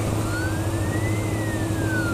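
An ambulance siren passing on the road, its rising and falling tone sweeping slowly over a continuous rumble of nearby traffic and engine noise.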